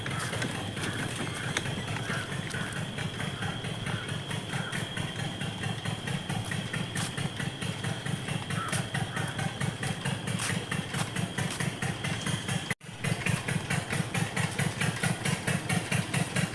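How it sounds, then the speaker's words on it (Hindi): A diesel tubewell pump engine runs in a mango orchard, chugging in a fast, even rhythm of regular thumps that continues steadily at moderate distance with no talk. "सामने हमारी बाग है और हमारा ट्यूबवेल चल रहा है।"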